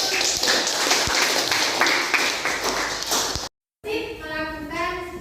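Schoolchildren clapping together in a classroom, rapid rhythmic applause with a few sharp taps for about three seconds, cut by a brief silence and followed by a tonal chime or voice.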